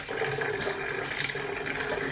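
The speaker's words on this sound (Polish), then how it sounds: "Po co przelewasz wodę do butelki?" Water poured from one container into a bottle in a home kitchen, a continuous trickling, gurgling flow heard close up without talk.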